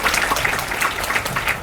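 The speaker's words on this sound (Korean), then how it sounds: "아주 속 시원한 답변해 주신 재판관님께 다시 한번 박수 한번 부탁드리겠습니다" An audience claps steadily throughout at a university lecture hall event, applauding a constitutional court judge; the dense, even patter of many hands fills the room with no voices.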